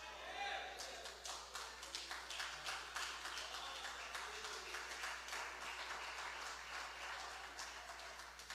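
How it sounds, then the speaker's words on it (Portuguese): Church congregation clapping in praise during a worship service, a steady crackle of many hands sustained throughout at moderate distance, with no voices rising above it. "Aplauda ao Senhor e dê glória a Deus"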